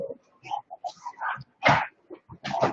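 A female puppy gives a string of short, close yips and whimpering barks in uneven bursts, lively and fairly loud, with one stronger bark near the middle.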